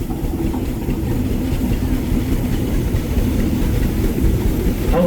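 A 1950 John Deere B tractor engine runs steadily with a low, continuous throb as it rolls in a small-town parade, loud and close with constant outdoor background noise.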